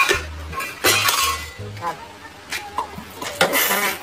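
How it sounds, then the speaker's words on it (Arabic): Hookah being washed in a café, with clinks and knocks of glass and metal parts, splashing and handling noises in short bursts, while people talk over it. "حاضر اغسل لك الشيشه اهو"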